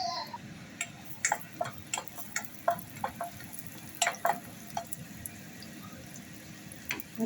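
Chopped garlic and capsicum frying in butter for a broccoli and corn salad, soft sizzle with scattered sharp pops and crackles, quiet and close, no talking.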